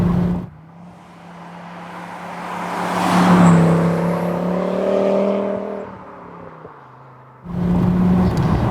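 A Fiat Coupe 20v Turbo engine revs hard toward its 7,000 RPM red line, building from a low drone into a loud, rising turbocharged howl, then easing off before the engine note returns.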